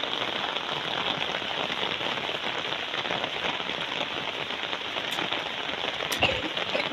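Steady rain falls on a mountain footpath, a dense even patter of drops spread across the whole stretch, with a couple of sharper taps near the end and no voices.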